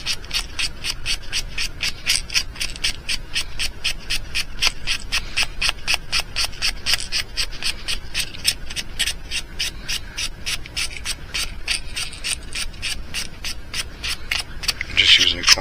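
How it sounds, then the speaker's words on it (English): Rapid back-and-forth sanding strokes work over the plastic snout of a mouse lure, a close, rhythmic scratchy rasp repeating evenly for the whole stretch, with a brief louder scuff near the end. "This is actually shaping the plastic more than it's sanding the paint right now."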